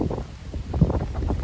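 Strong storm wind roars outdoors near trees where an eagle-shaped kite is flown, buffeting the microphone with a steady low rumble and gusting surges, no voices.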